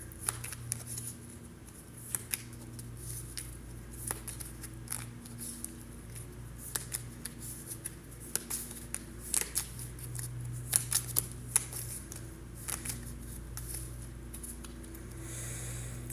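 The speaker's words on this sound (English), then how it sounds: "All right, cards are shuffled." Playing cards shuffled on a table before a solo board game session, producing repeated soft riffling and sharp snapping clicks at close range, with no talking.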